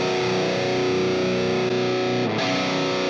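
A heavily distorted electric guitar plays through an Axe FX III amp modeler using a Dyna Cab cabinet simulation with the mic moved back a couple of centimeters. The sustained chords sound thick and loud, with a brief change in the chord near the end.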